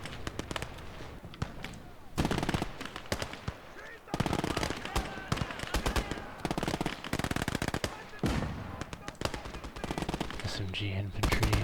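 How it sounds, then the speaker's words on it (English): Rapid machine-gun bursts from a flak gun firing at infantry in the video game Conquest Enhanced, loud and sustained across the whole stretch with dense overlapping gunfire and explosions, the barrage pausing briefly around two and four seconds before resuming. "This flat gun back here is really helping us out. Dealing with this infantry."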